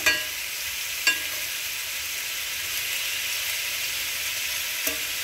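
Yellow squash and zucchini fry in a skillet with a steady, close sizzle, broken by a few sharp utensil clicks against the pan as the pieces are stirred; no one speaks.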